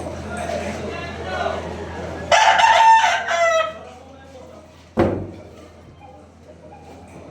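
A rooster crows loudly nearby, a harsh rising call lasting over a second, with people chatting before and a sharp knock afterward.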